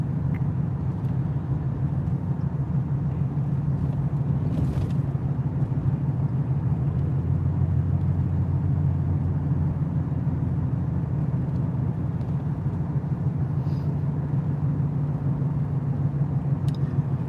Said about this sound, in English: There's been a bunch of cars the whole time I'm driving right now.